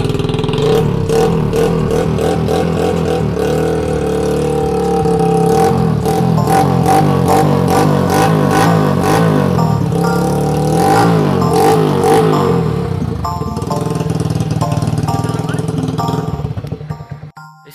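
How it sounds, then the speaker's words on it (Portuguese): A CG motorcycle with a Fiat Tipo car exhaust tip fitted to its exhaust idles and revs repeatedly, a loud, deep, throbbing note that rises and falls close by before cutting off at the end. "Vocês se ligaram no som que saiu do escapamento? Ficou muito louco. Ficou um som bem grave."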